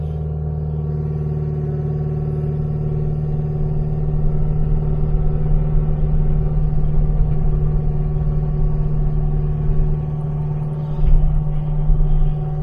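An excavator with its blade raised drives along, its diesel engine giving a steady loud rumble that swells slightly midway, with a few clanks near the end and no talking.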